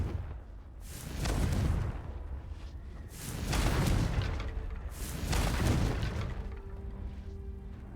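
Repeated explosive blasts of the Confringo spell in the Hogwarts Legacy video game, three broad booming bursts with whooshing tails spaced a couple of seconds apart, loud and close with no talking.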